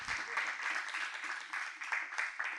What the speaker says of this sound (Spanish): Les damos un aplauso a Florencia Persia y a Andrés 40.